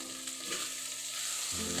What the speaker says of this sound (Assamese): নিমখ হালধি জিৰা গুড়ি পিঁয়াজ জলকীয়া দি তামাম ভাজি লৈছোঁ